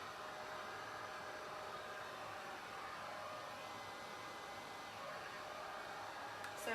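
A heat gun blows steadily on a painted mirror, giving a faint, even airy hiss that runs without a break and with no voices.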